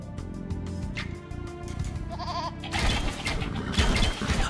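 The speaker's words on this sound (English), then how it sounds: "And I found a goat?" A goat bleats in the Age of Empires II strategy game, a short wavering cry over background game music.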